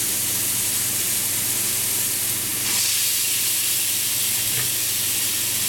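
Wild boar saddle sears in a hot pan while being lightly browned, giving a steady, loud, continuous sizzle and hiss throughout.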